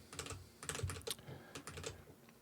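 Rapid keystrokes clatter on a PC computer keyboard in short bursts with brief pauses, close and fairly quiet, with no voices.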